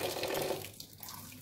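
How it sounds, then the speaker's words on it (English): Parboiled rice being washed quickly in a pot with cold water: a soft, continuous swishing and sloshing of water that fades after a second, with faint drips, close and fairly quiet. "Pour it back into the pot, add cold water and wash it quickly."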